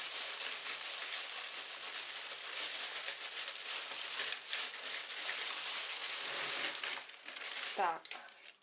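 A thin plastic packaging bag crinkles and rustles steadily while a flexible toy car track construction set is unpacked. The noise is close and continuous, with a sharper burst of crackling near the end.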